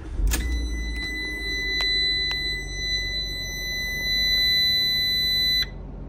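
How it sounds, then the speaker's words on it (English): A 2015 Ram Promaster van fires up with a short starter burst and low engine rumble, followed by a steady high electronic warning tone and several sharp beeps, close and alone. "Let's go ahead and start up the van."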